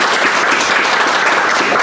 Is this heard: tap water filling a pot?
no